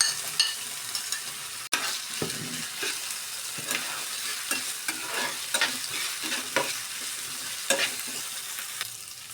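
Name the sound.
sautéing onion with ginger-garlic paste and capsicum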